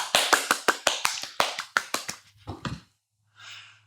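Quick bursts of hand clapping during an Ashtanga yoga session, about a dozen sharp close claps in fast succession that slow and fade, followed by a soft breathy exhale.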